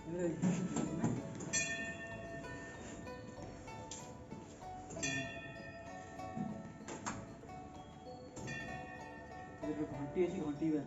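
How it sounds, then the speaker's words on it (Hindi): Several bright metallic bell strikes ring out at intervals, each lingering and fading, amid background murmur and a voice speaking. "घंटी अच्छी घंटी"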